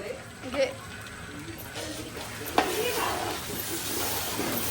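Onion paste, added after ginger-garlic paste, sizzles and frying in a pan while pav bhaji is cooked for a large family gathering, with stirring scrapes and a sharp clink under steady low frying hiss; people speak nearby.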